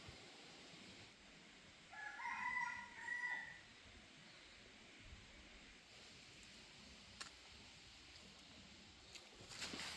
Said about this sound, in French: C'est vraiment très calme en tout cas ici, à part les petits coqs qui chantent.